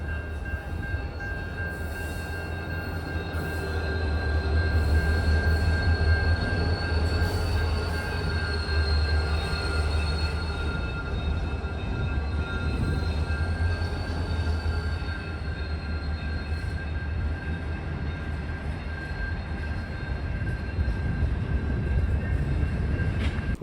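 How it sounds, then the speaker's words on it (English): CN 3110 freight train rolling through a crossing beneath a bridge, a long continuous rumble of cars with steady clacking wheels and a thin high wheel squeal running over it, loud and near throughout. "I caught CN 3110 running Longhorn forward at some crossing just under the Mason Street Bridge"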